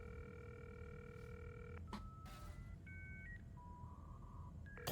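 Telephone dialing in the video game Cyberpunk 2077, a string of electronic keypad tones, a long steady tone then short beeps at varying pitches, clear over a low background hum.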